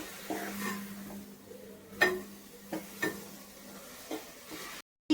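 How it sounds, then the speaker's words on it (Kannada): A spoon scrapes and taps in a pot of grated carrot and coconut cooking in milk, giving several light knocks at an uneven pace over a soft, steady simmer. "ಕಪ್ ಹಾಲನ್ನು ಹಾಕಿ ಕ್ಯಾರೆಟ್ ಮತ್ತು ಕಾಯಿ ತುರಿ ಬೇಯುವವರೆಗೆ ತಿರುಗಿಸುತ್ತಾ ಇದೆ"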